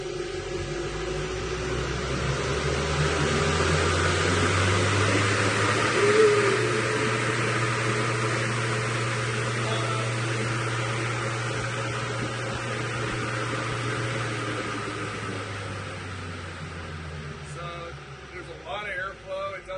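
A large VFD-driven fan on a 90 kW Bitcoin mining rig winds up inside a shop, its steady whooshing roar and rising motor whine building to full speed.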